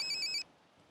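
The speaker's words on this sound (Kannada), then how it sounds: "phone ring ಅವನುಂಡು" A phone ringtone chirps in a short, bright, repeating tonal pattern, fairly loud, then cuts off abruptly partway through, leaving quiet room tone.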